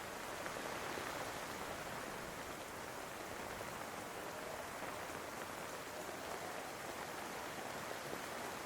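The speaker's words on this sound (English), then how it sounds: "the rain's still coming down steady" Steady rain falls without a break, a dense, even hiss of drops on surfaces throughout, heard alone with no voices.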